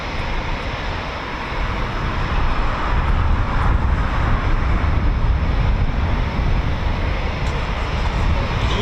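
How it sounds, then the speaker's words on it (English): A Eurofighter Typhoon FGR4 jet at RAF Coningsby, a quick reaction alert station, roars loudly and steadily throughout, swelling slightly as it goes, with some wind buffeting the microphone. "Beautiful aircraft."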